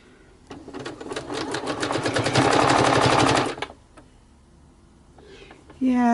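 A sewing machine runs a straight stitch through fabric for ruffles, a fast even needle chatter that builds for about three seconds and then stops, followed by quieter handling sounds and a brief tone.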